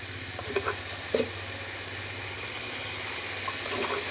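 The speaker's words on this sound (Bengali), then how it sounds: "জল দিয়ে মশলাটাকে এবার ভালোভাবে কষিয়ে নেব" Spice masala for ghugni frying in a pan after a drop of water is added, a constant close sizzle with occasional stirring clinks and scrapes, no talking.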